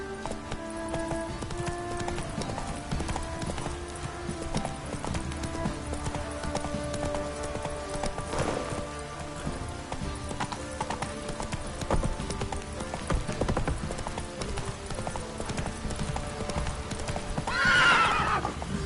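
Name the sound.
horse hooves clip-clopping in a video game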